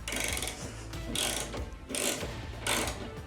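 A ratchet wrench tightens a bolt while a loading ramp is installed in a Ford Transit van, giving four short bursts of rapid clicking with brief pauses between them.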